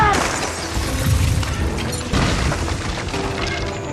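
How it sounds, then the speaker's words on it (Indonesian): A large package blows up in a street-racing action film, a heavy booming blast with crashing, shattering debris layered over dramatic music and mechanical noise, loud and sustained. "segera meraih Mia saat paket itu meledak"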